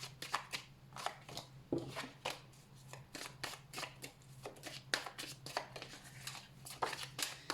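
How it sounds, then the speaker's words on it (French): Tarot cards being shuffled by hand, a quick series of crisp riffling and slapping bursts in an irregular rhythm, close and fairly quiet with no talking. "je nettoie mes cartes et je les mélange, bien sûr"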